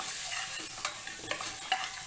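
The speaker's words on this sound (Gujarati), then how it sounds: "1 મિનિટ માટે આપણે આવી રીતના ઘી અથવા તો તેલ તમે જે યુઝ કર્યું હોય તેમાં સાતળવાનું રહેશે." Spices sautéing in ghee or oil with a little turmeric for a panch dhan khichdo, a steady close sizzle broken by a few sharp stirring scrapes against the pan.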